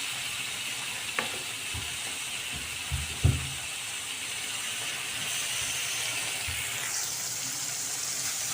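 Tomatoes fry with ginger and garlic in a hot pan for egg curry, giving a steady, close sizzle and hiss, broken by a few soft stirring knocks against the pan.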